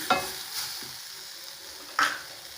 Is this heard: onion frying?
yes